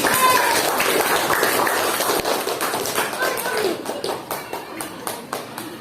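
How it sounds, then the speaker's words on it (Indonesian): Students in a classroom clap for a group, a brisk burst of hand claps that thins into scattered taps and fades over a few seconds. "Tepuk tangan dulu untuk kelompok Doli."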